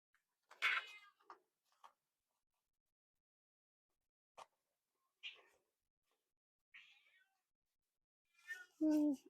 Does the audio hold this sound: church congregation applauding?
no